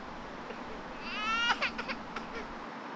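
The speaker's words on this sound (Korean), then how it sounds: "녀석이 발걸음을 멈춘 건 집에서 새어나오는 아기 울음소리 때문입니다." A baby crying inside a house, heard faintly from outdoors as a short rising wail with a few broken sobs over a steady background hum.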